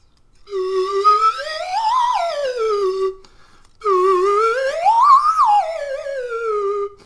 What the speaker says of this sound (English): I'll even use my slide whistle to help us with those ghost voices too